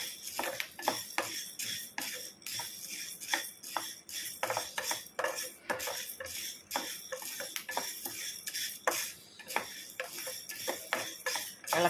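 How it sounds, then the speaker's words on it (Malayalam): Horse gram dry-roasting in a pan, giving off scattered small pops and clicks at an uneven rhythm, close and fairly quiet, with the light scrape of stirring and no talk. "മുതിര കണ്ടോ, ചെറുതായിട്ട് പൊട്ടുന്ന സൗണ്ട് കേൾക്കുന്നുണ്ട്."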